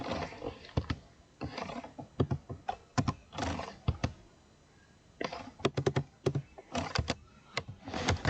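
Close, loud bursts of typing on a computer keyboard, clustered clacks separated by short pauses, with no voices.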